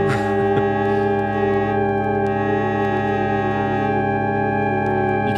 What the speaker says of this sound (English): you can hear the clarinet like